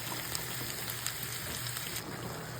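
Garlic and onion sauté in a hot pan for pork menudo, giving a steady, fairly quiet hiss of sizzling oil that runs evenly throughout with light crackles and no talking.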